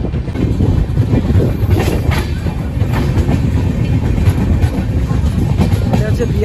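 Kanchankanya Express train running on rails between Malda and Siliguri, a steady loud rumble with rhythmic clickety-clack of wheels over rail joints throughout, close and continuous.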